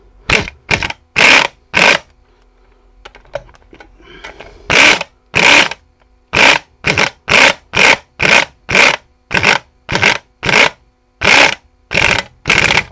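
An impact wrench tightens the front shock absorber on a Chrysler 300C in a run of loud, sharp hammering bursts, three quick ones, a pause, then a long regular series of short rattling blasts.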